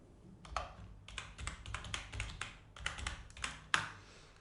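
Computer keyboard typing while text is entered in a video editing program, a close series of quick key taps in irregular bursts with short pauses, alone without speech.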